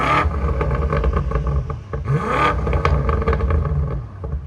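A 2020 BMW M8 Competition's 4.4L twin-turbo V8 with an X-pipe exhaust revs hard close by, its roar rising and falling in repeated bursts with a rough, throaty edge.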